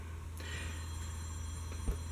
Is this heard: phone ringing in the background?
yes